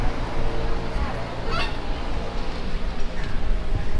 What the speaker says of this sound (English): And you know to be careful with the geese.